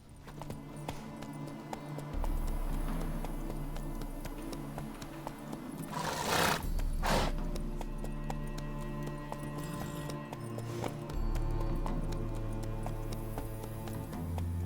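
Hooves of Geralt's horse Roach clatter in a steady galloping rhythm in The Witcher 3 game, with game music and ambient effects layered beneath; no distinct neigh stands out.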